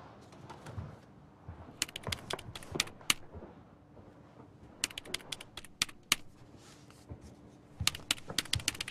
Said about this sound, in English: She's typing something on her keyboard.